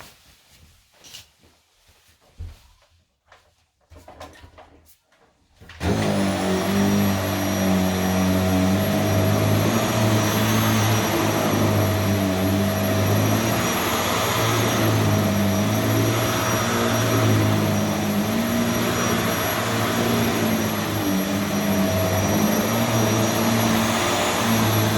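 A Vax Air Lift Drive Plus CDUP-ADXA upright vacuum cleaner switches on after some quiet handling noises, then runs with a loud, steady whine and motor drone that continues to the end.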